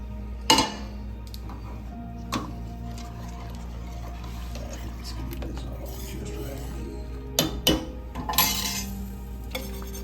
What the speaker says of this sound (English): It's a little lumpy. you have to whisk it.